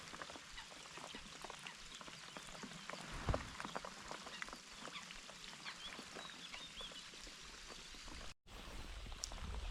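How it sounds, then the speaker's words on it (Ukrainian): Steady rain falls at a pond-side fishing spot, a dense, even patter of drops on water and surfaces throughout, faint and continuous with no talking. "самі бачите, дощ продовжується."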